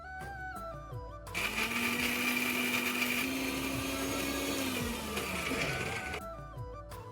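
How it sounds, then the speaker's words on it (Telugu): Kitchen mixer grinder chopping soaked almonds, cashews, pumpkin and sunflower seeds into coarse pieces, a loud steady whirring grind of about five seconds that starts and stops abruptly, with faint music playing around it. "వీటిని మిక్సీ జార్లో ముక్కా చెక్కలాగా ముందు చేసుకోవాలి"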